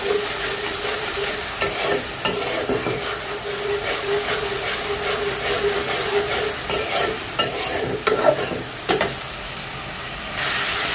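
Spice masala with salt for a coral fish bhuna sizzles loudly and continuously in hot oil, punctuated by repeated spatula scrapes and stirring knocks, with no voices.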